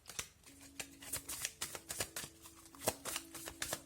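Tarot cards being shuffled by hand, a close series of quick riffling and snapping flicks in an irregular rhythm, soft but crisp in a quiet room.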